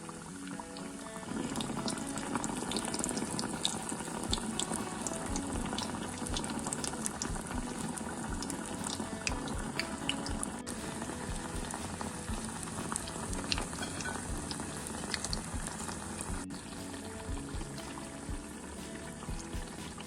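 Neyyappam frying in coconut oil, a continuous dense sizzle and bubbling that stays steady throughout, close up, with occasional soft scrapes and trickles as hot oil is ladled over.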